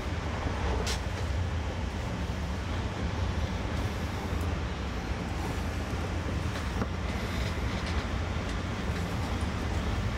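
Steady low rumble of a moving train, continuous and even, with faint rattling and a few short squeaks, heard from inside.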